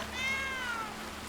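A cat in the video game Blacktail gives a single clear meow, a rising-then-falling cry lasting under a second over a low background hum.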